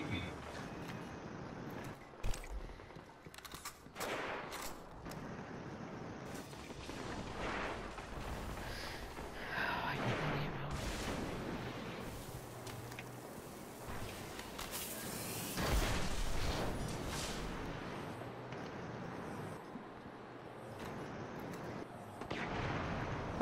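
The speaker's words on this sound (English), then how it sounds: "those bullets are going right through the wall" Gunfire in a Destiny Crucible match, scattered bursts and booms under near-constant chatter from players, with shots varying from distant pops to louder close volleys.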